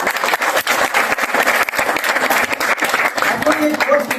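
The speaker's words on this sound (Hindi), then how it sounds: "तो इनके लिए जोरदार तालियां।" Audience applause after a motivational speaker's talk, loud close-up clapping with many distinct hand claps throughout, and a voice briefly emerging near the end.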